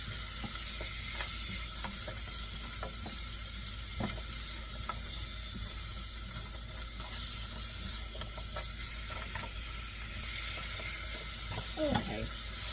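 Beef bones sizzle steadily in a pot while a utensil scrapes and stirs them, giving scattered clicks and scrapes over a constant frying hiss, close and moderately loud, with no talk.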